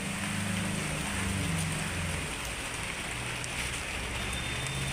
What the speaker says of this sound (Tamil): ஏன்னா மழை பெய்யுது, அதுக்காக தான்.